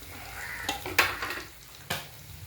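Tamarind water goes into a hot pan for a mackerel chilli curry, giving a short sizzle with a few sharp metallic clinks and stirring scrapes against a soft background hiss.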